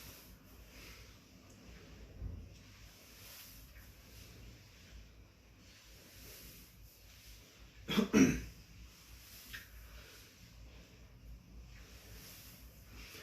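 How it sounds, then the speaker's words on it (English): A single short throat clearing rasps out near the middle, fairly close, against quiet room noise with a faint earlier rustle. "It's amazing how often you clear your throat"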